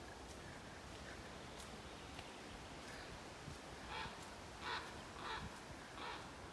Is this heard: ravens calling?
yes